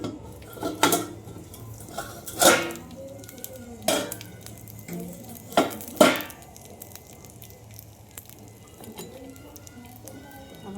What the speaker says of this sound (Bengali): আমি ঢাকাটা খুলবো।